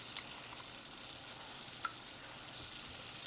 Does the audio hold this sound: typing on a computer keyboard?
no